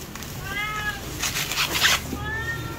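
Cat meowing in a home kitchen: two clear drawn-out meows, near and moderately loud, with rustling and clattering from food preparation between them.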